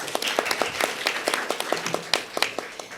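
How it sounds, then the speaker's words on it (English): Sparse applause rises from the audience at an ASEAN–Korea sustainable innovation talks session, with distinct individual claps pattering irregularly at moderate loudness for a few seconds. "So give him another round of applause."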